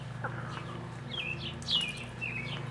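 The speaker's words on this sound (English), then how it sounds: "We have bluebirds over here." Bluebirds call in a few short, high, squeaky chirps and warbles, faint against a steady low engine-like hum, with no talk.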